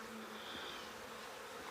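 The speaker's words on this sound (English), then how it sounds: "Those are really old bees." Old honeybees droning steadily around a hive, a continuous close buzz with a few higher whining passes of individual bees, no talk.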